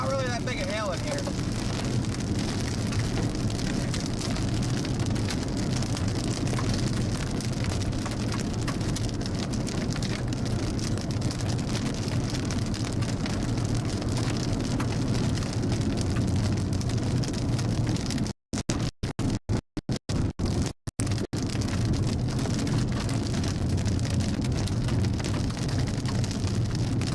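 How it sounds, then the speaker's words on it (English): Hail and rain drum steadily on a storm-chasing car during a Texas tornado chase, a dense, continuous rattle with wind noise, broken by a few brief dropouts. "Not really that big a hail in here."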